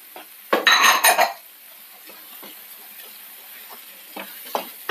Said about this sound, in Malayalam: നന്നായിട്ടൊന്ന് മിക്സ് ചെയ്യാം ഇതിലേക്ക് നമുക്ക് കുരുമുളക് പൊടി ചേർക്കാം